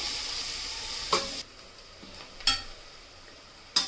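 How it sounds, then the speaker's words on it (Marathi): Onions sautéing in ghee in a pan, a soft continuous sizzle with a few sharp bursts of stirring clatter at intervals, close by and without talk. "आता आपण कांदा मस्तपैकी असं तुपामध्ये परतवून घेऊयात"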